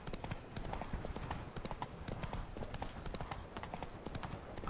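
Hooves of Geralt's horse Roach clip-clopping steadily and close by in Witcher 3, a continuous rhythmic trot filling the whole stretch with faint game ambience beneath.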